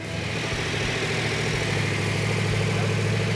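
A car engine idling close by, a steady even rumble that holds constant throughout.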